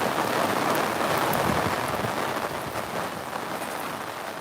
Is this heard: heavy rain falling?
yes